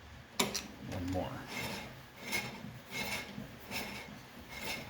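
Brake pads rub against the inside of a drum in a series of gritty scraping passes, each a short rasp repeating at an uneven pace, close and fairly quiet, with no talking over it.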